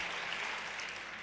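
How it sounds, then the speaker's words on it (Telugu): A church congregation claps together during a Telugu sermon, a steady wash of applause held evenly throughout at moderate distance. "దేవుని యేసుక్రీస్తుకు ఒకసారి చప్పట్లు కొట్టండి"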